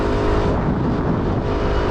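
An Aprilia SR GT 125 scooter on the move, a loud steady engine drone with rushing wind noise, recorded close while riding.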